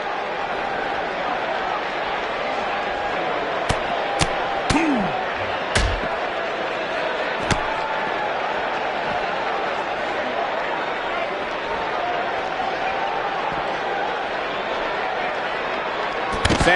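A wrestling arena crowd in a WWE video game holds a constant, steady roar, with several sharp slams and thuds breaking through it and commentators talking over it.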